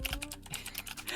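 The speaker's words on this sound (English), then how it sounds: "Aggressive typing noises." Aggressive typing in a Yakuza game, a quick burst of hard, clacking keystrokes in a steady rhythm, close and clear, with no talking.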